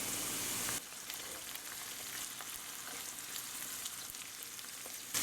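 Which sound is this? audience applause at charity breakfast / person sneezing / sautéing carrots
sautéing carrots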